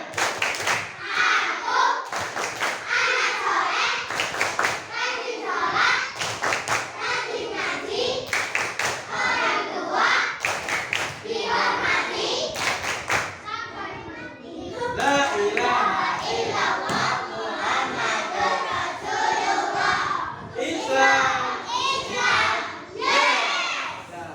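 A class of children performs the rhythmic 'tepuk anak soleh' clap chant, sharp patterned handclaps alternating with their chanted voices in a close, lively classroom.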